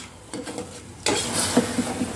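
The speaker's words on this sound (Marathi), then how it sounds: "व्यवस्थित मिक्स करून घेऊयात हे" A spoon stirs a sugar syrup mixture for jalebi in a pot, soft scraping that grows louder and busier partway through, with no voices.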